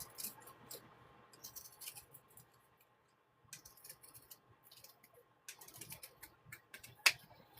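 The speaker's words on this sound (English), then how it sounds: "These are some heavy scissors" Heavy scissors snip through Christmas ornament material in a quiet indoor space, giving a run of crisp close cuts with a short pause midway and one sharp louder snip near the end.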